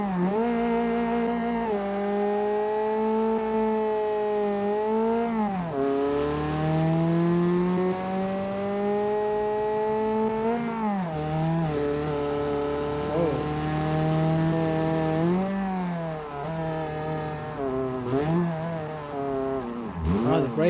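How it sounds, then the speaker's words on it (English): A loud car engine, a viewer's car rather than a ricer build, fires up and revs repeatedly, its pitch rising and falling in strong sweeps close by, with no talking over it. "Super loud engine."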